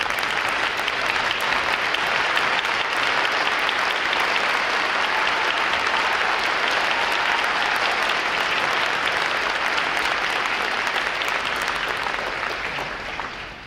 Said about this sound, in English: Please rise and we give you a round of applause.